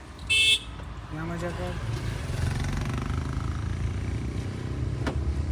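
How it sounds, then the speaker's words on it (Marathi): A manual car's engine is revved during a beginner driving lesson, giving a steady low engine drone after a short horn toot at the start. A voice speaks briefly over it. "आता थोडा रेस घ्या मॅडम"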